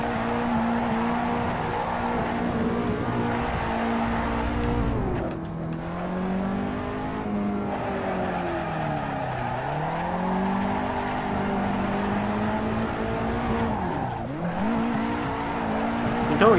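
A race car engine in Assetto Corsa drones loudly at high revs, dipping and climbing several times through shifts and braking, a continuous close roar with faint voice underneath.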